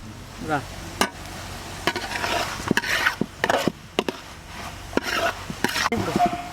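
A utensil scrapes and knocks against a pot of chicken curry in irregular strokes while it sizzles softly underneath.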